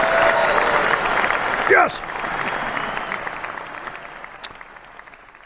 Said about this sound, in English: Nice round of applause for our friends over there.